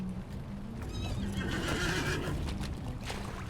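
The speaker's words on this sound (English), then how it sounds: "Okay, so we'll jump on our horse." Horse neighing in the video game Lord of the Rings Online, a clear whinny rising and falling over a few seconds, with faint clip-clop hoofbeats underneath and no talk.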